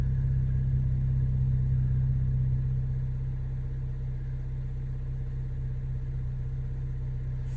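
A Ford Fiesta ST with a fuel pump low-pressure fault idles nearby, a steady low engine drone whose pitch drops slightly a few seconds in and then holds, with no talk.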